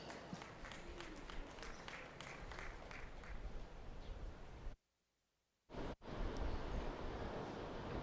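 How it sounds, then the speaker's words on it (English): A crowd applauds a junior livestock show class at an arena; faint, steady clapping fills the clip under wind noise, broken by a sudden second of silence before it resumes. "Give them a round of applause"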